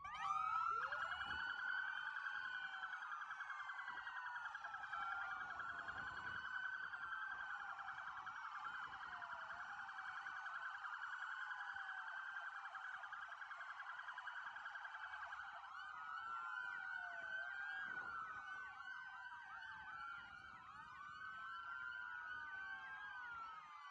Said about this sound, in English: we've got footage of that, all the sirens going